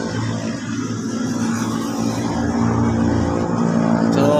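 A 2017 Mitsubishi Mirage engine, just started after fuel pump replacement, runs with a steady broadband hum and rumble that grows slightly louder toward the end, with no talk over it.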